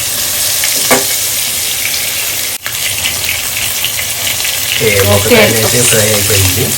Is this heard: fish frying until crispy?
yes